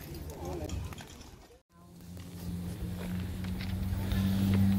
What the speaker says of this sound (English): There's a Ferrari coming again.